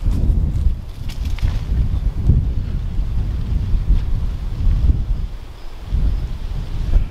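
Strong wind buffets the microphone outdoors, a heavy low rumbling roar that gusts and swells continuously without letup.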